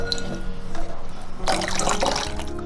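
Starch batter being poured and stirred into hot brown sugar syrup in a pot, with soft liquid sloshing and trickling that grows into a louder burst of stirring and splashing.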